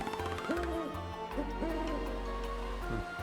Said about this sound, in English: The owl noise wasn't there before.